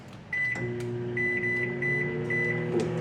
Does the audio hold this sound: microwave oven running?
yes